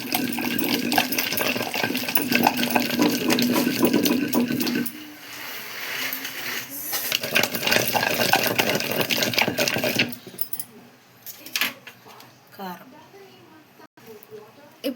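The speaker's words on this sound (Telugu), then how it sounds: "ఇప్పుడైతే నానబెట్టుకున్న ఈ చింతపండుని రోట్లో వేసి దంచుకుంటున్నాము." Soaked tamarind is pounded in a stone mortar for a chutney, giving dense, loud, rhythmic thuds and grinding knocks for about ten seconds that then thin out into scattered, quieter strikes.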